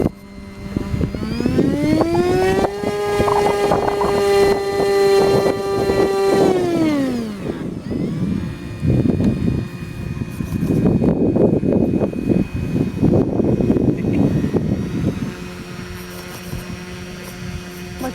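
Brushless motor and propeller on an Aerobird Extreme model plane: a loud, close, steady whine spins up, holds, then winds down, followed by rougher throttle surges and fluctuating buzzing.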